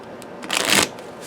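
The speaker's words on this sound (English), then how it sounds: "let's take a look at how these shuffle" A thick 78-card Spirit Speak tarot deck on heavy cardstock is shuffled once, a brief riffling rush of paper that swells and fades within half a second, close and clear.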